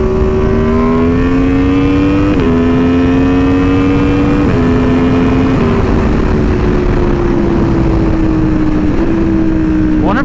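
An Aprilia Tuono V4R motorcycle revs hard through a wheelie, a loud, close, continuous engine drone that climbs in pitch and drops sharply at several gear shifts.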